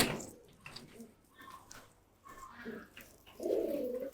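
Caged pigeons coo softly and intermittently nearby, with a louder, fuller coo near the end and faint background noise.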